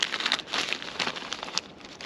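Harvest Crunch cereal is poured into a noodle cup, giving a dry, crackling rattle of clusters tumbling in, steady and close for a couple of seconds with no talk.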